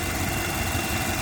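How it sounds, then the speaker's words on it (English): Car engine idling with a dense, steady mid-low rumble and vibration throughout, fairly loud and alone, with no talking. "I'm gonna start the engine"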